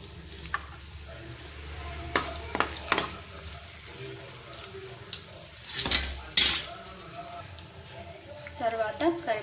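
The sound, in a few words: mustard seeds, cumin and dried chillies frying in oil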